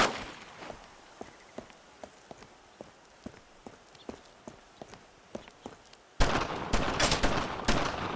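Gunfire in the WWII game Brothers in Arms: Road to Hill 30 opens as a steady series of evenly spaced, moderately loud single reports. It then erupts into a dense, loud burst of rapid overlapping shots.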